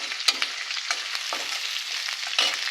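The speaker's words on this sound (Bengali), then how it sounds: "আমি চিংড়ি মাছটা ভেজে নিচ্ছি" Prawns, cut into large pieces, frying in a pan for a prawn and potato curry, giving a steady close sizzle with a few sharper spatters and stirring scrapes, no voices.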